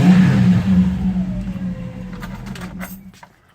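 A car with about 300,000 miles, a slight exhaust leak and worn front suspension bushings revs up loud and close, the engine note climbing and then dropping away before cutting out near the end.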